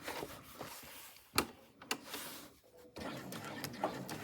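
A sewing machine stitches an appliqué onto a bag in short bursts of a stitch or two. The bursts are broken by pauses and clicks as the fabric is pivoted, all close and moderately quiet.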